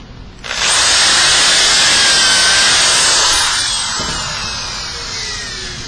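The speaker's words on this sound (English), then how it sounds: "Once you've bored all 4 holes" A power drill bores a dowel hole into a wooden board, starting abruptly and running loud and close as a steady high whine for about five seconds before easing slightly as the bit cuts through.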